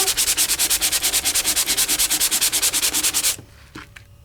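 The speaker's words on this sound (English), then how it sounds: "give this one a little bit of a sanding" Rapid, rhythmic rasping of a Sand It gadget scrubbing core-dyed cardstock, loud and close, about a dozen strokes per second, stopping abruptly near the end.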